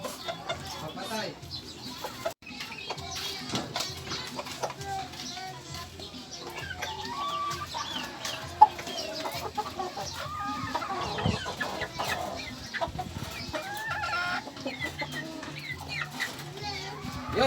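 Chickens at a small backyard poultry pen cluck and chatter continuously at moderate distance, with occasional sharper calls and voices talking in the background.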